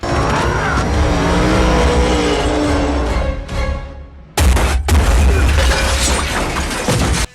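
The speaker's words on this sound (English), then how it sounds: "get ready to witness the most expensive car crashes ever caught on camera" Expensive cars crash in movie stunts: loud roaring engines and impacts with a sudden cut into crunching, shattering collision noise, dense and close throughout.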